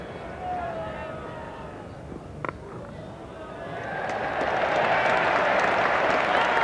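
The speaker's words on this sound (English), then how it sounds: "And the applause right around the ground for England's total of 300." Applause for England's total of 300 rises around Lord's during a 1989 Test match against Australia, a distant, broad wash of clapping that swells midway and continues under a commentator's voice.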